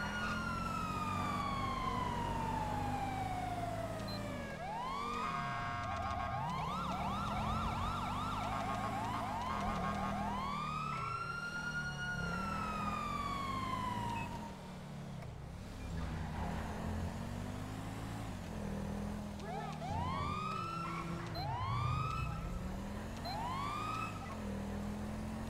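Police car sirens in the video game GTA V wail and yelp continuously, sweeping up and down in loud, repeated cycles over a steady engine drone.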